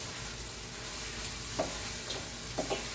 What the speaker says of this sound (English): I'm going to add my ham. And get all that in there. I'm going to fry that up with it.